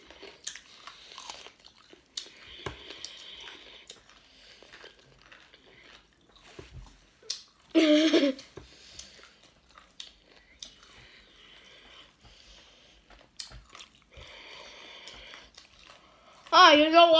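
Someone eating a cucumber ketchup sandwich, with close, moist crunching bites and chewing in short bursts. Soft voice sounds come in between the bites.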